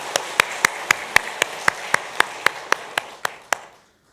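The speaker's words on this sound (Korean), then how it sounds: "다시 한번 박수해 주시기 바랍니다" A church congregation gives a short burst of rhythmic, unison clapping, about a dozen evenly spaced sharp claps that stop abruptly, leaving silence.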